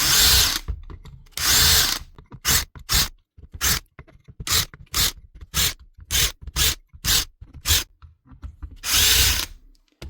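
A power drill backs screws out of the housing of a Dewalt SDS drill during a cleaning job, with repeated short, loud whirring bursts in a steady on-off rhythm, some longer runs among quick pulses.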